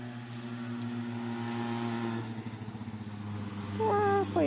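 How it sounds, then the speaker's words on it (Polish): A small motorcycle drones steadily as it passes nearby outdoors, its engine tone wavering and swelling. A higher tonal sound cuts in near the end, and no one speaks. "Słuchajcie, jedzie motorek."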